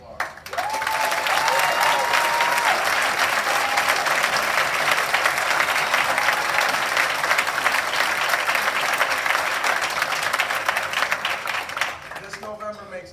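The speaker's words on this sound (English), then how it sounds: "huge round of applause" Sustained, dense applause from a crowd at a bill-signing ceremony honoring the 26 members of the Massachusetts Black and Latino Caucus, steady and full for about twelve seconds before fading, with a voice briefly audible at the end.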